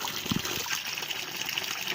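Pressurized water, at about 1 to 2 bar from a small compressor, flows out of an IBC tank valve: a steady, rushing gush and trickle of moderate loudness, heard close and continuous, with no talk.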